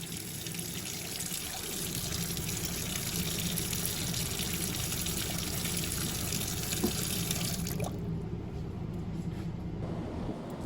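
Hot tap water runs steadily into a kitchen sink, a close, constant hissing gush that shifts slightly in tone near the end.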